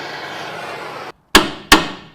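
A hammer strikes a transmission part while a 1957 VW Beetle Ragtop Oval has its transmission swapped: two sharp, loud metallic blows about a third of a second apart, following a stretch of background noise and a short silence.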